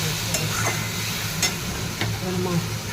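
Raw fish sizzles in hot oil with turmeric and chilli in a home kitchen, a steady close frying hiss broken by a few sharp crackles and the scrape of stirring.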